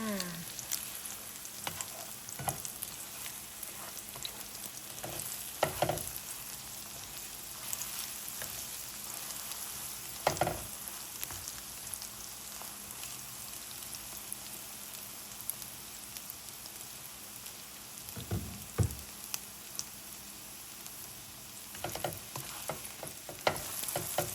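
Okra stir-fried with egg crackles steadily in a pan, the constant frying sizzle broken by repeated scraping and clattering strokes of a spatula, close and without voices.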